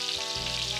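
Popcorn turkey pieces fry in a pan of hot oil, a steady, close, continuous sizzle with faint bubbling that holds evenly throughout, with no voices.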